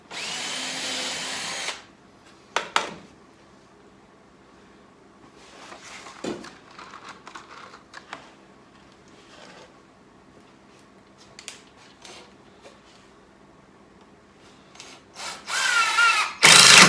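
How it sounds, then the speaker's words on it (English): A power drill drives 2-inch pocket-hole screws at an angle into thick wood for a kiln box frame, loud whirring bursts at the start and end with quieter handling knocks and scrapes between. "I'm putting the screw in at a bit of an angle. What I have is a 2-inch screw"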